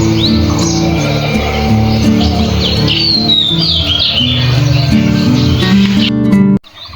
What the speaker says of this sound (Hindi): चारों तरफ चिड़ियों की चहचहाट